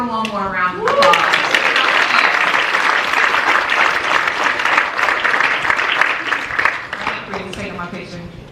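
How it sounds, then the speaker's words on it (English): A graduation hooding ceremony crowd breaks into loud, sustained applause after a brief voice at the start, many hands clapping steadily and close, then thinning as a voice returns near the end. "Let's give her one more round of applause."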